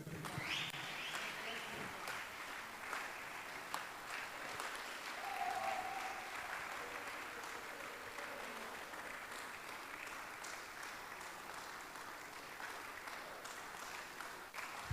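A church congregation claps together during a prophet's sermon, a steady, sustained wash of many hands heard from a distance, continuing without break throughout.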